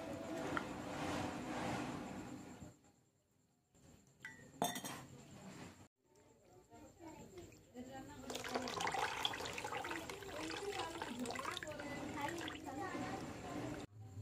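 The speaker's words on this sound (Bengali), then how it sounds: "কাটা মাংসটাকে জল দিয়ে ধুয়ে নেব।" Small pieces of chopped meat are rinsed in water, with sloshing and splashing interrupted by a brief pause, plus clinks of the bowl and utensils close by.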